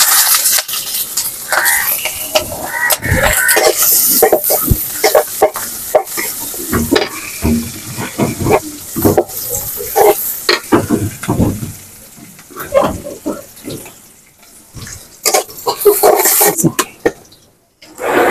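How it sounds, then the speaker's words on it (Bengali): Chopped garlic, onion and green chili hit hot oil and fry with a loud, crackling sizzle. Frequent sharp metal stirring clanks come and go, and the sizzle fades briefly before swelling again. "দিয়ে দিলাম তেল, আর দিয়ে দিলাম রসুন কুচি, পেঁয়াজ কুচি, কাঁচামরিচ"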